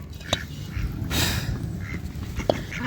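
Farmyard ducks released from their pen quack a few times, with short nasal calls rising over a busy outdoor background, moderately close and without speech.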